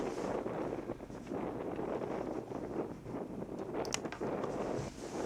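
Wind sweeps almost constantly across an open excavation site at Tell el Balamun in Egypt, a steady rushing buffet on the microphone with no voices.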